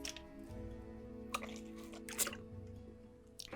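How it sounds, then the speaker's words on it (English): Someone takes a sip of water: faint sips and small wet slurping sounds come in a few brief bursts beneath steady background music, with no one talking. "I just want to take a sip of water."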